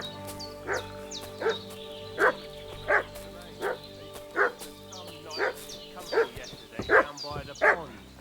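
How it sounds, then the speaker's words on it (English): A dog in the Kingdom Come: Deliverance 2 video game barks again and again at a steady rhythm, about a dozen sharp, fairly close yips over a constant low hum. "What's that dog making such a fuss about?"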